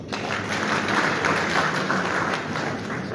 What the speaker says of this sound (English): let's give ourselves another round of applause